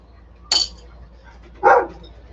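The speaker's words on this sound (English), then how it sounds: "My dog's chasing the quads outside." A dog barks outside while chasing RC quad vehicles, two separate sharp barks a second apart, moderately loud against a quiet room background.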